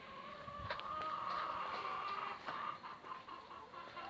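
Farmyard hens clucking softly at close range, a short run of quiet, repeated clucks with faint rustling around them.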